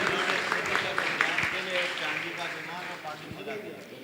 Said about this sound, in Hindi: जोरदार तालियों के साथ हम उनका भी